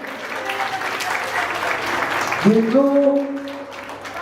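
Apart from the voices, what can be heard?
audience giving a loud round of applause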